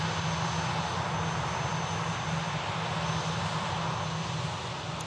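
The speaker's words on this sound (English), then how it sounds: "Taking the plane and all the passengers onto the stand here at Manchester." A passenger airliner taxis onto its stand at Manchester Airport, giving a steady, continuous engine drone with a low hum that holds level and close throughout, no talk over it.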